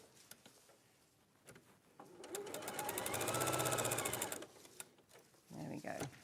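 A quilting sewing machine with an extension table stitches in a rapid, steady whir that swells loud for a couple of seconds, with quieter voices and handling noises before and after.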